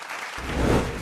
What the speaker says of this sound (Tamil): ஒரு உற்சாகமான கைத்தட்டு கொடுங்க